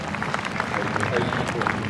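Supporters of New Zealand clap at a Sri Lanka versus New Zealand Test cricket match, a steady, dense patter of applause spread across the ground with no pauses.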